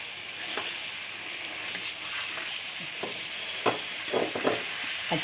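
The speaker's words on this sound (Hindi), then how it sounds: "ज़रा 2-3 मिनट के लिए आलू को अच्छी तरह इसके अंदर फ्राई कर लें।" Potatoes frying in a pan for a homestyle aloo salan, a steady loud sizzle throughout with occasional clinks and stirring scrapes toward the end, no voices.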